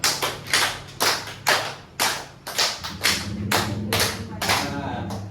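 Rhythmic hand clapping in a counting clapping game, sharp claps in groups of steady beats, close and fairly loud, with a voice calling the pattern over a low hum.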